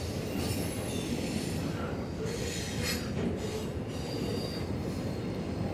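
Freight train rolling steadily past at Nortonville, Kentucky, with a New York Central unit in the consist, a continuous loud rumble of wagons and wheels with faint squeals throughout, no pauses.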